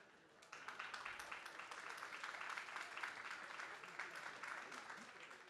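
Audience applause at a book fair talk, starting after a brief quiet moment and then holding as a full, steady wash of clapping hands for several seconds.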